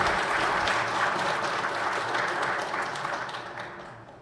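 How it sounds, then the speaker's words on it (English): Applause from a conference audience after a talk on an open source IDE for Postgres, a dense steady clapping that holds for about four seconds and then tapers slightly at the end. "Let's applause."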